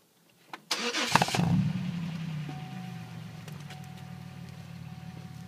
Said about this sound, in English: Let it idle for a couple seconds.